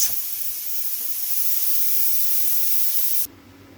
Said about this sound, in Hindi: अब हम चूल्हा बंद करेंगे और हम कुकर वेट उठा के देखते हैं।